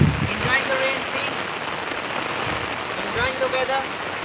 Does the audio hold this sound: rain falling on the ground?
yes